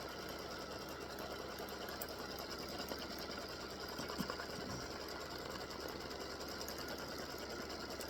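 An embroidery machine stitches a placement line on card stock with a steady, faint mechanical whir and rapid needle chatter. It continues unbroken throughout with no talking.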